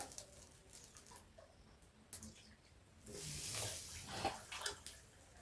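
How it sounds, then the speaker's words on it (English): Water poured into a cooking pot for an African village lunch, a soft steady splashing stream that swells midway and then trickles, close and fairly quiet, with no talk. "So I'm going to put here 4 cups of water."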